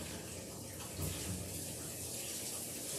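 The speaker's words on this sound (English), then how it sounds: "Make sure that's rinsed real good." Steady running water rinsing a dog during grooming, a continuous close hiss and splash from a tap or hose with slight shifts in flow, and no voices.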